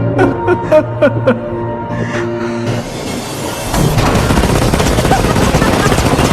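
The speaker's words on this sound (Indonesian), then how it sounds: "Di saat Sina sedang asik menembaki pasukan terdepan" Rapid bursts of gunfire and blasts fill a film battle scene, starting after a stretch of music and dense, loud, continuous automatic fire for the last few seconds.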